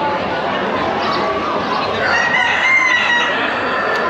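A crowded chorus of chickens and roosters clucking and crowing at once at an agricultural fair in Sineu, Mallorca, loud and continuous, with a rooster's crow rising near the end.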